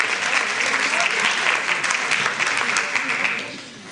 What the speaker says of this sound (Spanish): Por favor, un aplauso para estas dos señoritas.